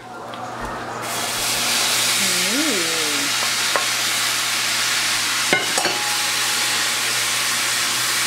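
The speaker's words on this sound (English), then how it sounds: "So now putting in the sauce that Dan made earlier." Sauce poured into a hot pan sizzles and hisses steadily as it is stirred to coat the food, with scraping stir sounds and a brief voice in the background.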